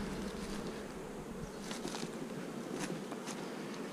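Honey bees pour out of a beehive during a morning hive inspection. They make a dense, continuous buzzing close by, with occasional brief taps and knocks mixed in.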